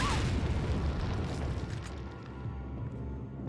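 Artillery shot exploding in a zombie video game, a loud booming blast at the start that rolls into a long rumbling decay, close and heavy with no talk.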